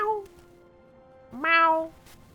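A person imitates a cat's meow twice, a short falling mew and then a louder, longer rising-and-falling meow, both close and clear with faint game background sound underneath.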